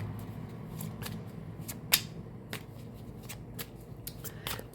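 Tarot cards shuffled by hand in steady, rustling riffles, with a few sharper snaps of the deck standing out, close and moderately loud, no talking.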